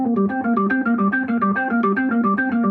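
Hammond B3 organ chords with a bright, percussive click at the start of each note, played in a steady rhythmic pattern, loud and close.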